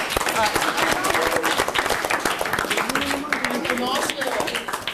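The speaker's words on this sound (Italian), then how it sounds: "fateli un applauso, dai" A youth football team's under-12 squad gets a round of applause in a local TV studio: a busy stretch of clapping with voices talking over it throughout.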